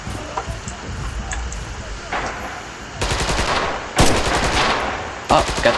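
Rapid bursts of machine gun fire in the World War II shooter Red Orchestra 2: Heroes of Stalingrad, coming in several loud, clustered volleys over steady battlefield noise, with someone speaking briefly.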